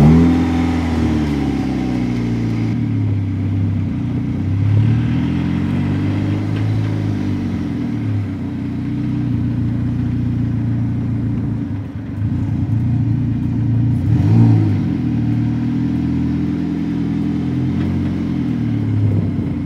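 DF Goblin kit car on its first drive, a loud close engine with a steady mid-pitched drone that rises and falls through several revs and gear changes, plus some rattling.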